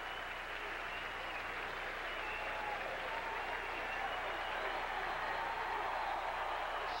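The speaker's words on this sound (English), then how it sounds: "Something to cheer about, and the Tulsa fans making the most of their opportunity." A stadium crowd of Tulsa fans cheers and applauds at a college football game against Texas A&M in 1991, a dense, steady roar of clapping and shouting that holds throughout at a fairly distant, even level.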